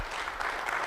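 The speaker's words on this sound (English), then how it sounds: "let's give him a round of applause as well" A short burst of steady audience applause for a speaker at an energy sector recovery program gathering, even and sustained throughout with no pause.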